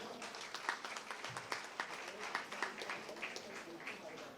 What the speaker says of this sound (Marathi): त्यांच्यासाठी एकदा टाळी वाजवा